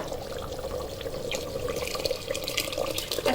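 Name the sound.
water poured into pot of rice and lentils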